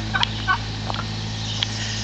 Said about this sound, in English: One turkey has ventured out.